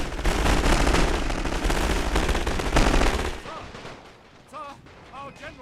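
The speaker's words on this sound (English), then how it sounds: "At the rear, they've still got their field guns firing." Field guns and machine guns fire in a WW1 Total War mod video game as a dense, loud barrage of rapid gunfire and booms, giving way to quieter scattered shots.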